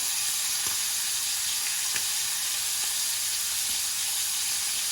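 Food sautéing in a very hot pan with butter, a steady loud sizzle and hiss running continuously with a few faint clicks of stirring, no voices.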